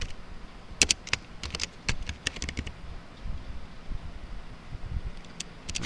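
Scattered keystrokes on a computer keyboard, soft and uneven, tapped out in small irregular clusters against a quiet room hum while data is entered into an MS Word table.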